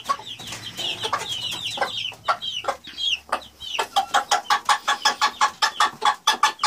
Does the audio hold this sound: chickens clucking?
yes